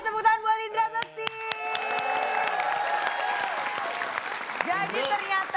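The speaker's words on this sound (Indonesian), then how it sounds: "Kita kasih tepuk tangan buat Indra Bekti" Studio audience applause and light cheering on a comedy talk show, rising after a burst of musical tones and continuing steadily, with a voice briefly heard over it near the end.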